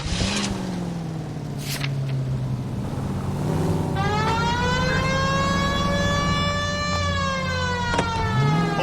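A police car siren wails steadily in the L.A. Noire video game, a loud continuous rising and falling tone over a driving car engine, with no talk.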